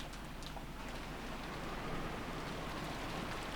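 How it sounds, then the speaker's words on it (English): Steady rainfall sound effect from the visual novel game Umineko, a continuous soft hiss of rain on surfaces, even and quiet throughout with no voices. "What is this, rain?"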